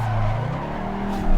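A car drifts in a racing simulator, with a Scandinavian-flick wiggle to unbalance it. A steady engine drone and a sustained tire squeal run at moderate loudness for a moment and swell briefly at the end.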